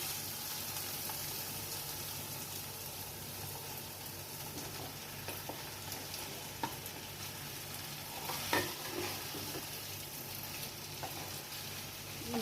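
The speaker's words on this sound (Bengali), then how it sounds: "এটা ভালো করে আলু পটলের সাথে মশলাটা একটু কষিয়ে নেব যাতে পটলের মধ্যে মশলাটা একটু ভালো করে ঢুকে যায়" Potato and pointed gourd pieces fry in oil with spice paste in a pan for a Bengali doi potol chingri dish: a continuous close sizzle broken by occasional scraping stirs of a spatula.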